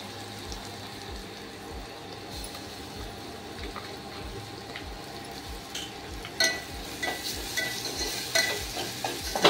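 Onion and pithla masala (gram-flour spice mix) fry in a pan for Maharashtrian pithla, with a steady sizzle and repeated scraping stirs, growing louder and busier toward the end; no one speaks.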